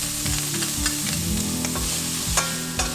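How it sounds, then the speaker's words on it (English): Sliced bacon and garlic fry in a hot pan during a mung bean sprout stir-fry, giving a steady close sizzle with repeated stirring scrapes and clinks and no voices. "Add the sliced bacon first. Just cook for a few seconds before adding the garlic."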